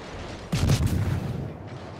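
Harugumo destroyer guns fire in World of Warships, a sudden booming salvo near the half-second mark that rolls into a sustained rumble and fades slowly.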